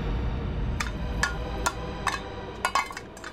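Several sharp metallic clangs from a saucepan strike at irregular intervals, ringing briefly over a low background rumble, close by, in a cartoon.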